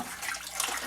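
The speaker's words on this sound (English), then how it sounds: "I'm siphoning the water out." Water siphoned out of a home well water acid neutralizer tank, a steady close gushing, splashing flow that runs throughout without voices.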